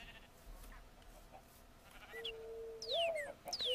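Sheep bleating in the Minecraft video game: a few short wavering bleats in the second half, fairly clear over quiet game background with no talking.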